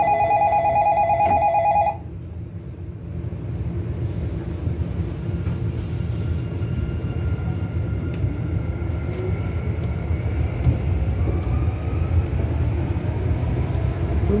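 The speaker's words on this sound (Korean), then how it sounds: "열차 곧 출발합니다." A chime sounds briefly, then a Sillim Line light rail train in Seoul pulls away with a low continuous rumble and rising hum that carries on steadily.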